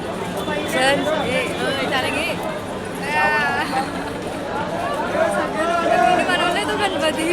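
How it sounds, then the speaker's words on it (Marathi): Dense crowd chatter fills the air at a busy Ganpati immersion on the eleventh day, many overlapping voices forming a steady babble with no single voice standing out. "गर्दीच गर्दी"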